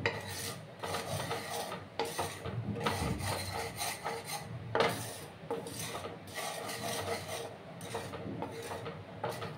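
Poppy seeds dry roasting in a pan while being stirred, giving a steady close-up rasping and scraping with irregular stirring strokes throughout.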